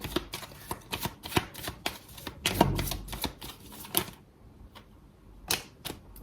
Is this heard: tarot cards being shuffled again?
yes